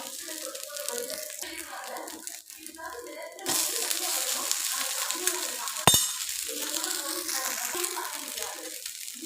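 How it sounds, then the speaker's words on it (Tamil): Rava dosa sizzles in oil on a hot pan and is flipped with a sharp scrape near the middle. A voice talks over most of the steady frying. "தோசை ஒரு சைடு வெந்துருச்சு இப்போ நம்ம திருப்பி போட்டுடலாம்"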